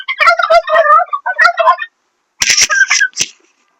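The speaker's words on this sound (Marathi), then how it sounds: "तर बघा आता हे तुम्ही बघू शकता, हे टर्की आहे." A domestic turkey cock gobbles loudly and close by in two rapid, warbling bursts separated by a short silence, with no voices.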